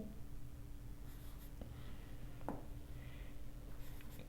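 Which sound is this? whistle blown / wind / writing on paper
writing on paper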